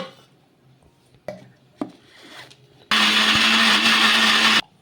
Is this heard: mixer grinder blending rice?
yes